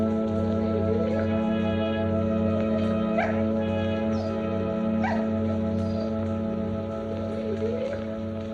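A dog whimpers and gives short, thin yips over a steady droning hum in an old film scene, the cries soft and intermittent rather than loud barks.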